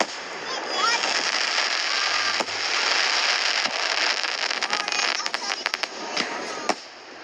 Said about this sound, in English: All right, getting into the finale.